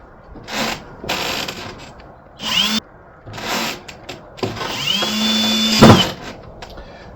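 A power drill drives screws into wood while an enclosure is being mounted, sounding in several loud bursts of whirring that rise in pitch as they run, with short pauses and a clack between them.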